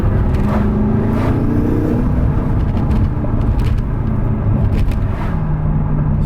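A BMW M6 twin-turbo engine fitted with BMS intakes revs close by, its deep growl rising and falling in a couple of pulls over a steady idle rumble.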